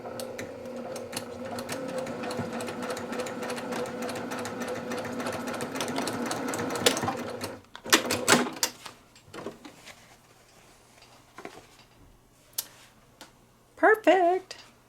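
An embroidery machine stitches a Santa table runner with a steady, rapid mechanical whir and needle patter for about seven seconds. It then stops, leaving scattered clicks and handling knocks, with a short burst of clatter near the end.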